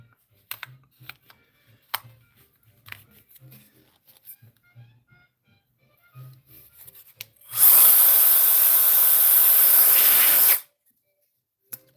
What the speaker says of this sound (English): Just a little air blower.